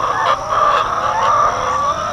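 Pet ducks give loud, nasal, honking quacks close by, calling almost without a break through the whole moment with no talking.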